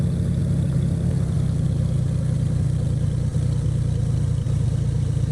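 A Beechcraft B58 Baron propeller engine runs at about 1,000 RPM in the X-Plane 12 flight simulator, producing a steady, loud, low droning hum that stays constant throughout, with no talking.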